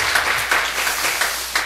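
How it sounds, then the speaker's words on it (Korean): A church congregation applauds the Ephphatha praise team at a Friday prayer service, a moderately loud patter of many hands with small regular swells. "에바다 찬양단 박수 한번 하겠습니다"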